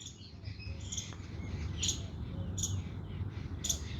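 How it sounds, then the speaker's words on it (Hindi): Birds chirping outdoors in short, bright, repeated calls above a steady rustling background, with faint insect-like trills mixed in. "ये गिलहरी है, चिड़िया है"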